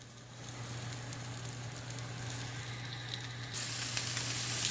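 Vienna sausage, sweet potato and kale sizzle in a pan, a steady close frying hiss that grows a little louder and brighter toward the end, with a low hum beneath and no talking.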